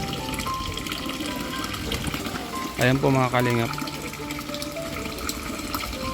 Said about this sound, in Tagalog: Maganda na yung tubig na dumadaloy sa bahay